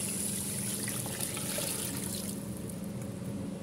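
Water is poured into a pot for sinigang na bangus, milkfish soup with tamarind, giving a steady, continuous trickling splash that stays even throughout, close by with no talking.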